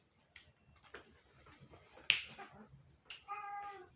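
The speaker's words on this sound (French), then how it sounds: "Oui, désolé, c'est mon chat." A pet cat meows softly indoors, with a couple of short faint calls and a sharper, brighter meow near the end over a quiet background.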